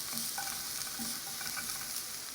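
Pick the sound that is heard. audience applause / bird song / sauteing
sauteing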